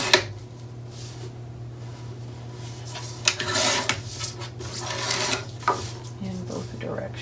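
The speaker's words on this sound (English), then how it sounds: "it looks like it needs to be trimmed out just a little bit" Close, rough scraping and rasping as a decorative paper piece for a mini album page is trimmed, in uneven bursts with light taps and rubbing, under low speech.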